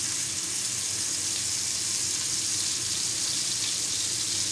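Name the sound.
burger sizzling in hot pan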